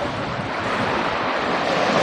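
Surf washes onto a black sand beach in the Aeolian Islands, a continuous loud wash of breaking waves heard close, with wind buffeting the microphone and no voices.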